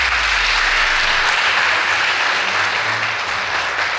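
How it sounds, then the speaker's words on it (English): Loud, sustained applause from a large audience at a Kenyan school event for Kasagam High and Kisumu Girls, a dense wash of clapping that holds steady for several seconds. "Please give them a round of applause."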